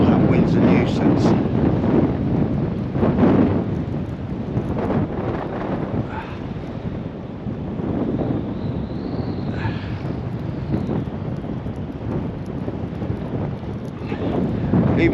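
Wind buffets a microphone on a fishing pier, a continuous loud roaring rumble that surges and eases throughout, with someone speaking under it now and then.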